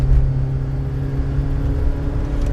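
A Peugeot 205 GTI or VW Up GTI engine held at high revs, a steady, loud, close mechanical drone with deep low rumble and no talk over it.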